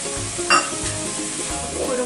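Chili, coriander and turmeric powder sautéed in a pan for a brinjal masala: a continuous close sizzle with a sharp clatter from the spoon, steady throughout and without speech.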